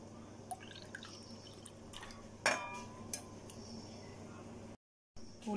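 Tamarind squeezed by hand in a bowl of water in a home kitchen, with soft wet drips and splashes, light clinks of a utensil against a vessel, and one sharper splash partway through over a steady low background hum.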